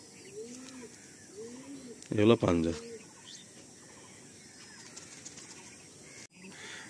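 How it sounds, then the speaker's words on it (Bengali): A male pigeon held in the hand gives a few low coos, then a sudden loud burst of wing flapping; someone speaks briefly nearby. "বন্ধুরা একটা নর পায়রা"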